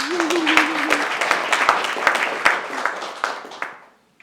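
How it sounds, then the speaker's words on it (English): Luncheon guests at a mayoral event applaud themselves, a lively burst of many hands clapping that starts briefly under a voice, stays strong, then tapers off to silence at the end. "Give yourself a round of applause"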